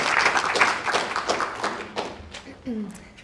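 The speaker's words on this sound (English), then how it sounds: "a big round of applause" Audience applause welcoming a speaker at a talk on human rights, social justice and social work: scattered claps fading over about three seconds, with a voice briefly audible near the end.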